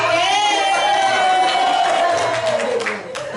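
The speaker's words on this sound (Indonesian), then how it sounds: "Mari kita berikan aplaus yang paling besar" Audience applause and cheering at a teachers' workshop in Cilacap, a dense, loud wash of clapping and voices that fades slightly toward the end.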